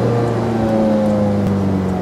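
A Ferrari F430 Scuderia V8 holds a loud, sustained drone with a rising pitch, a brief close-up run of engine sound with no talk over it.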